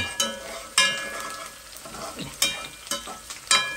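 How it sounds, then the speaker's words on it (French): Onions frying in hot oil for a herring rougail, a steady sizzle broken by several sharp stirring scrapes and clacks of a utensil against the pan, close and moderately loud. "Les oignons ici finissent bien de travailler aussi dans l'huile chaude."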